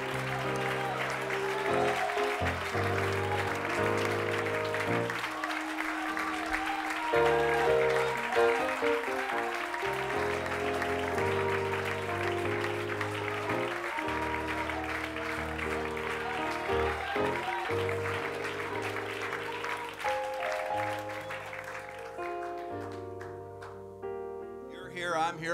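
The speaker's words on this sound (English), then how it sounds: "Can we just give God a hand clap of praise in the house?" A church congregation claps in praise during a worship service, with clapping running under sustained music and voices that taper off near the end.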